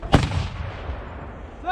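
An M119A3 howitzer fires a single deep, booming round that rolls out in a long rumbling echo across open ground, with a voice starting up faintly at the very end.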